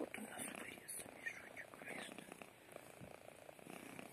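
A cat purrs while squeezed into a small, slightly too-tight bag, a soft steady rumble running close and continuous under quiet background noise.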